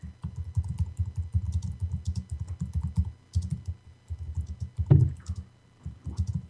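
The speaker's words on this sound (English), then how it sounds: "I was typing something." Rapid typing on a computer keyboard, close and clattering in quick bursts with short pauses, plus one sharper knock partway through and no speech.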